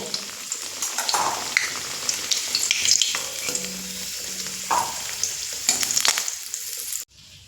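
Potato pieces frying in hot oil for biryani, a steady close crackling sizzle with occasional stirring scrapes and clinks, cutting off abruptly near the end.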